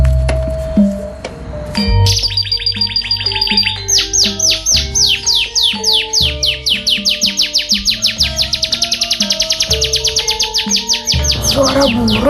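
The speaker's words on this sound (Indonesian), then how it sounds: "Suara burung." Birds chirp loudly and close by in fast, repeated bright tweets that speed into a dense, rhythmic run of calls, with no talking.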